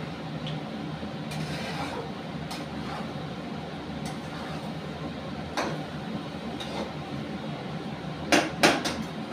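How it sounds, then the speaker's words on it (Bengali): Meat is stir-fried with salt in a pot: a steady, dense sizzle underneath, with sparse metallic taps and a quick burst of spatula clanks against the pot near the end. "এবার মাংসটাকে আমি খুব ভালো করে কষাবো।"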